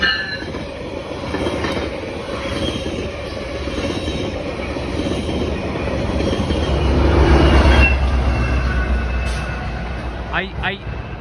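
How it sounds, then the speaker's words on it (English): A GO commuter train rumbles past close by, its wheels clattering and swelling in loudness before easing off, with a few brief squeals near the end. "Here's the train. It's coming. It's the GO train."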